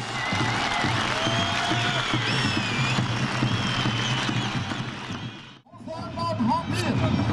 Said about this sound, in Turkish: Şu genç kardeşimize kuvvetli bir alkış yapalım, bir alkış.